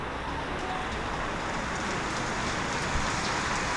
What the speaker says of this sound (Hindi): आज सुबह से झमाझम बारिश हो रही है